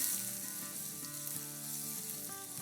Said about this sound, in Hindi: लहसुनों को ब्राउन नहीं करना है, लेकिन थोड़ा सा सौटे कर लेना है